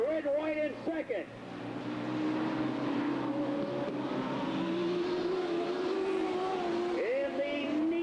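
Sprint race cars at Riverside Speedway roar around the oval, engine drone rising and falling as cars pass at a moderate distance, while a track announcer talks over the racing.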